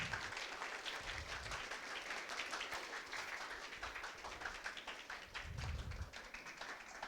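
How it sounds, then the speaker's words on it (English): Seminar audience clapping as fast as they can, making a dense, continuous patter of many hands at a faint, distant level that holds steady throughout. "what you have to do is to clap as many times as possible in 10 seconds"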